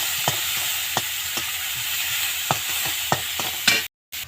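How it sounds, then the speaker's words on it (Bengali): Onion and garlic fry in oil in a wok with a steady, close sizzle, punctuated by regular tapping and scraping of stirring, with a brief dropout near the end and no voices. "পেঁয়াজ আর রসুনটা আমি একটু ভেজে নেব।"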